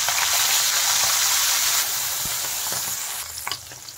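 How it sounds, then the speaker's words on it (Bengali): Puti fish sizzle hard in hot mustard oil in a kadai, a loud, steady frying hiss that eases slightly partway through, with a few sharp pops and spatters near the end. "তেল গরম হয়ে গেছে, এখন আমি তেলে মাছগুলো দিয়ে দিচ্ছি।"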